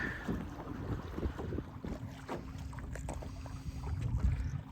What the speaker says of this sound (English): the wind picked up again, so I'm taking advantage